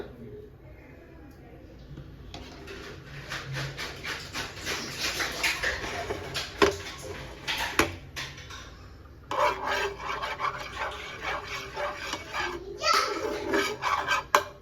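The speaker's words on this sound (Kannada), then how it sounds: "ಚೆನ್ನಾಗಿ ಬೀಟ್ ಮಾಡ್ಕೊಳ್ಬೇಕು ಎಗ್ನ" Eggs are beaten in a bowl with fast, continuous scraping and rubbing strokes, close and rhythmic, pausing briefly partway before resuming just as vigorously.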